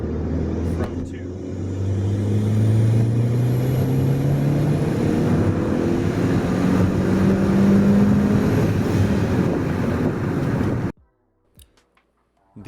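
A tuned turbocharged 1.8T car, about twenty years old, running near 20 psi, pulls hard through third gear: a loud, steady engine roar with rising tones for about eleven seconds, then it cuts off abruptly into near silence.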